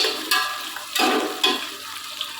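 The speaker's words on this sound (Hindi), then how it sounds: "ये डालने के बाद मैं फ़ौरन जो है इनको थोड़ी सी देर फ्राई करूँगी" Potatoes and onion frying in a pan for aloo pulao, a soft sizzle broken by a few brief scraping stirs, fairly quiet and close.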